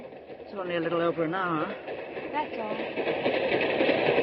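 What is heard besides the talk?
freight train passing, radio drama sound effect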